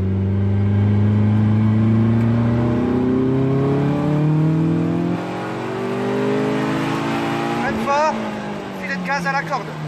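A Caterham race car on the Croix-en-Ternois circuit accelerating hard, engine note climbing steadily through the revs, then a quick gear change with a brief stutter near the end, loud and close from onboard.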